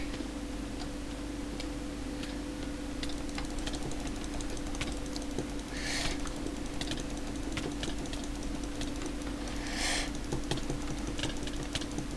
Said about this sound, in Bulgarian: ако чуете кликането ми, сори. Ама мога само да кликам.